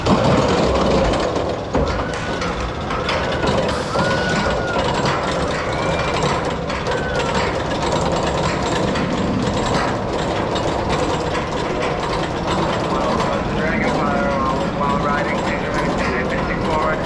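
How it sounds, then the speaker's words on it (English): Dragon Fire, a classic aero roller coaster at Canada's Wonderland, with a loud continuous ratcheting clank of the lift chain mechanism over rumbling rails, steady and close, with faint crowd noise. "Dragon Fire is the park's classic aero coaster."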